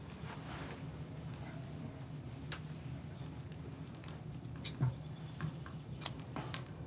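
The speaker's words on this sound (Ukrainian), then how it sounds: "Візьми ножиці, відріж нитку." Scissors cutting a thread, heard as a few faint, sharp snips and clicks spaced apart over quiet room noise.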